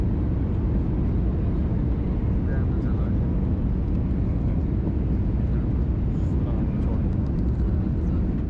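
Airliner cabin during a right turn and descent toward Skardu airport among snow-capped northern Pakistan mountains, a steady loud engine and airflow roar filling the whole stretch without letting up.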